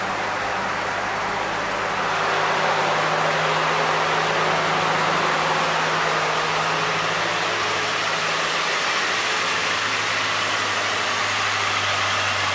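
Idling Ford Ranger pickup truck engine, a steady close low rumble with an even hum that holds without break the whole time and no voices.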